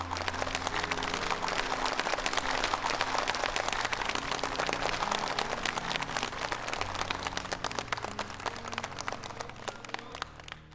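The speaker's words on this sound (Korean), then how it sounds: "박수로 맞이합시다." A stage audience at a health-education show on eye care gives dense, steady applause as ophthalmology experts come on, with no talk over the clapping, which tapers slightly toward the end.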